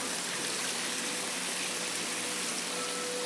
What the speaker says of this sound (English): Water's coming down out of that spout and falling down there